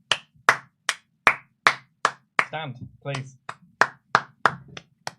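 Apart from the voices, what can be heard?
wrestling audience clapping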